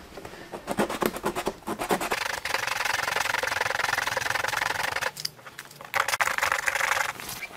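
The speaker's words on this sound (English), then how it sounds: "I'm just going to sand it down with a little bit of sandpaper just to make a little bit of a groove in the bumper" Sandpaper rubbed by hand over a plastic car bumper to cut small grooves for a crack repair, a steady close scratchy rasp of quick back-and-forth strokes with a brief pause near the end.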